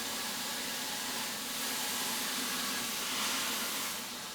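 Steady broadband hiss of steam filling a chamber where a wooden barrel is being softened, a constant close rushing wash that swells slightly midway with no voices.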